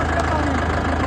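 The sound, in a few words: motorbike engine idling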